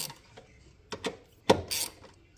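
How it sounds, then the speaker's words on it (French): Ratchet with a 14 mm socket loosening bolts on a Citroën C4 1.6 HDi during timing belt work: a few short, close mechanical clicking bursts separated by pauses, with no talk. "avec une douille de 14, on va desserrer les vis qui sont là"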